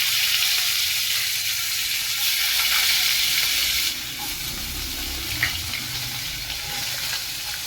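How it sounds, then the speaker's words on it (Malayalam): A spoonful of small cumin seeds splutters in hot oil for palak paneer, giving a dense, continuous sizzling hiss that eases slightly partway through, with a faint pop or two. "ഒരു സ്പൂണ് ജീരകം ചെറിയ ജീരകമാണ് കേട്ടോ ഒന്ന് പൊട്ടട്ടെ"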